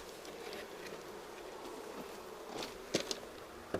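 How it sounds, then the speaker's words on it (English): A soft, continuous buzz of many honey bees in an opened hive box hums in the background, with a few faint taps near the end. "Lots of bees, I can tell you that much."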